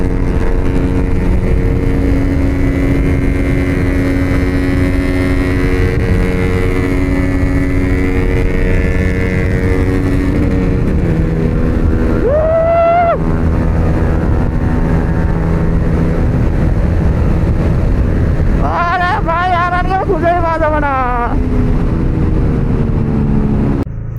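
Motorcycles drag racing, a Yamaha R15 among them, roar loudly and steadily up close, with sharp revving sweeps rising around the middle and again near the end.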